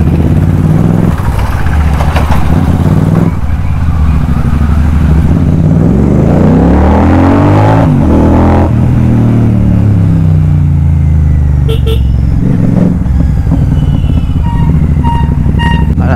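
A motorcycle is ridden under a cloudy sky, its engine droning loud and close with rising and falling revs and rushing wind throughout.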